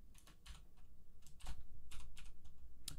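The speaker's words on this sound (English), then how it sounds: "I'm literally typing codes for the next topic so I can actually be organized." Rapid, uneven keystrokes clatter on a computer keyboard at close range, with bursts of taps and a few louder key hits over a low steady hum, no voices.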